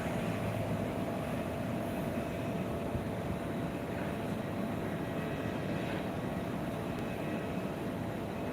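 An Air India A320neo airliner in Vistara livery, flying in from Delhi, lands at Phuket International Airport. Its steady broadband engine roar holds at a constant level for the whole stretch, with no voices.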